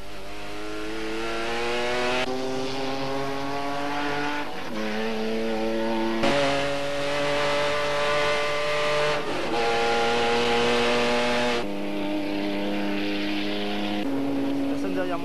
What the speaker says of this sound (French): le souffle puissant du Flat 6 a résonné sur le circuit Paul Ricard